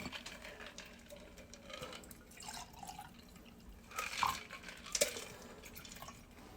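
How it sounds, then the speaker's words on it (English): A cognac cocktail is poured into a sugar-rimmed Crusta glass, giving quiet trickling and dripping liquid sounds close by, with a couple of small clinks near the end. "Now then we're going to pour in our cocktail."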